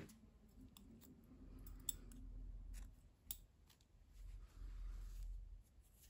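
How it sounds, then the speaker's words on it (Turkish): Scissors snip through crochet yarn at the end of a dress neckline, a handful of small sharp clicks scattered over a quiet, faint background, close by and with no talk. "İpliği kesiyorum."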